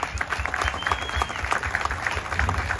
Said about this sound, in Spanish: el motivo merece un aplauso bien fuerte